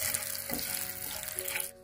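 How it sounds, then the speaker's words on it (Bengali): Turmeric and Kashmiri chili powder fry in oil in a pan, giving a steady close sizzle while being stirred, fading out sharply at the end. "হলুদ আর কাশ্মীরি লঙ্কার গুঁড়োটা একটু নেড়ে চেড়ে আমি জল ঢেলে দিচ্ছি"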